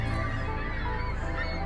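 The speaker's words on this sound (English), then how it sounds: "the birds are going absolutely wild" Birds calling wildly during a total solar eclipse: loud, continuous honking calls from a flock, layered and close, filling the whole moment.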